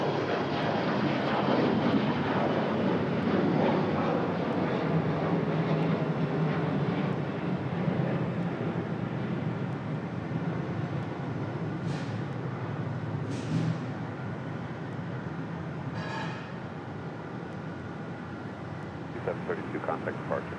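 A United airliner rotating early on takeoff at Raleigh-Durham International Airport, a loud, steady jet roar filling the scene and slowly easing, with faint voices and a few brief higher sounds over it.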